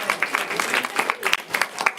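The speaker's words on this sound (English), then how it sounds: "clap for the bravest people among you" An audience at a live New Year's Eve show claps, many hands striking in an uneven, continuous patter with rhythmic bursts, close and moderately loud, with a faint voice mixed in.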